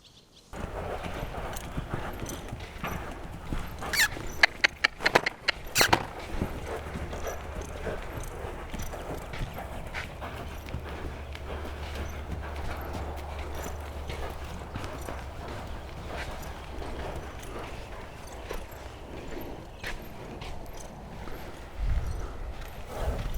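Hooves of Silas, a 2-year-old stud colt in early training, clip-clopping in an irregular series of close, fairly quiet steps over a low background rumble, with occasional sharper knocks and no talk.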